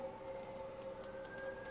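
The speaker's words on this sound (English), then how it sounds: "That's the ambulance I called." An ambulance siren in The Amazing Spider-Man 2 video game holds a steady wailing tone, faint and at a distance, with nothing else over it.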